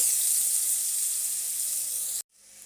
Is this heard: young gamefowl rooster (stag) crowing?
no